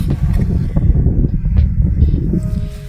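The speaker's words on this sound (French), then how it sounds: "je vais essayer de mettre le micro dans le vent" Heavy wind at a fishing pond buffets the microphone in a loud, continuous low rumble that never lets up, with faint rustling flickers above it.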